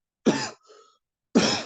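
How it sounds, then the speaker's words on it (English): A man coughs twice, close and sharp, with a short pause and a faint throat sound between the two bursts. "I've got a bit of a cough at the moment"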